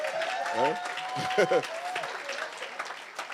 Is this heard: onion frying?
no